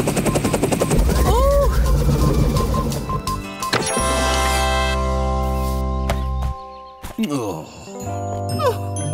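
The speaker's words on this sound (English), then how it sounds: "Oh, it's Pat's helicopter!" Cartoon helicopter from a children's animated seaside episode, its rotor drone joined by tinkling chimes and jingly music, loud and continuous, with a voice briefly heard.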